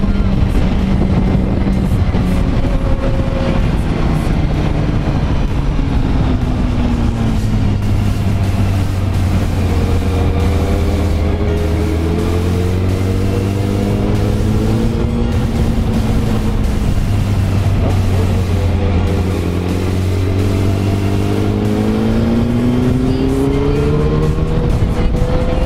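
Fiat 500 Abarth-style hot hatch (Fiat R1, 299) engine pulling hard under acceleration, a loud close onboard drone rising in pitch through the gears with brief dips at each shift, steady and continuous throughout.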